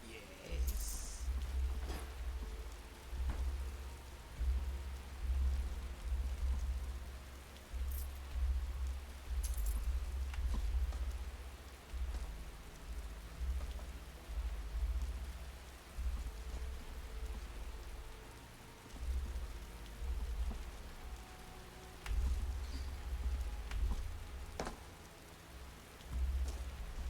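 Steady rain pours in the Skyrim game world, a continuous close hiss of drops on surfaces with a deep rumbling wash beneath, swelling and easing slightly with no voices.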